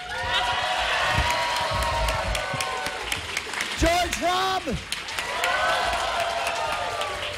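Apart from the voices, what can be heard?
convention audience applause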